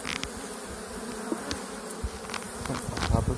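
Honeybees buzz steadily around an open hive during a June queen search, a dense continuous drone with occasional louder individual bees passing close to the ear.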